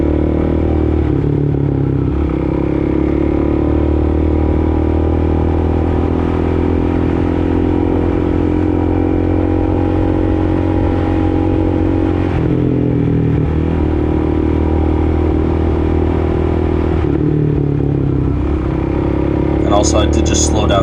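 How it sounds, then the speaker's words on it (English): A 2005 Suzuki DRZ400SM supermoto accelerating on the road, its engine droning loud and steady throughout with wind rush, rising and easing slightly as the ride goes on. "But accelerating here, the bike felt really, really good. Nice, even power curve."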